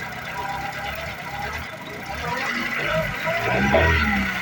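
A car engine with a cold motor idles with a low rumble, then is given gas so the revs rise and swell in the second half before easing slightly; faint voices may be present.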